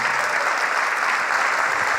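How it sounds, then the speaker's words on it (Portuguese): A church congregation applauding steadily, dense continuous clapping at moderate distance with no pauses. "Vamos aplaudir mais ao nome de Jesus."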